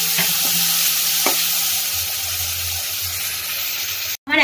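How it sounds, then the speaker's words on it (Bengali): Chopped onion frying in a hot pan for a cauliflower and cabbage vegetable dish, a loud, dense sizzle with hissing steam and a couple of light stirring knocks, with no talking. "পেঁয়াজ কুচিটা এর মধ্যে দিয়ে দিচ্ছি, একটুখানি এটাকে ফ্রাই করে নিচ্ছি"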